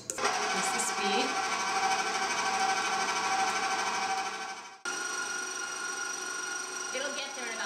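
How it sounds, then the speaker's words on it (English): A stand mixer whips glossy, stiff icing at increased speed, producing a loud, steady motor whine that drops abruptly to a softer hum partway through, close by with no talk. "You start your mixer on low just to incorporate all the ingredients. And what I like to do is scrape down the sides while it's mixing. Increase the speed."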